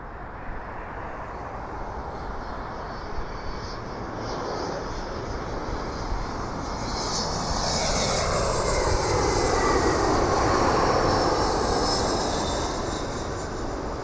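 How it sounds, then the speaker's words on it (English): An Air Canada Express Embraer jet comes in to land at Toronto Pearson airport, its engine roar building steadily from a distant rush to a loud, sustained whine and roar that peaks and then eases slightly, heard alone outdoors. "we have another plane, Air Canada Express, coming in from JFK. It's an Embraer."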